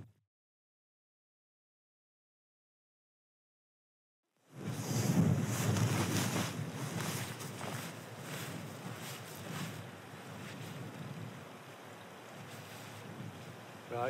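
After several seconds of silence, strong wind on a Lake District mountain top suddenly buffets the microphone, a loud rushing gust that settles into a steady blustery roar.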